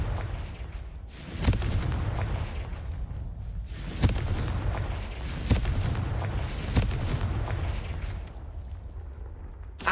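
Confringo blast spells cast in the video game Hogwarts Legacy, a series of heavy booming explosions, about five or six sharp blasts spaced a second or two apart over a rumbling background.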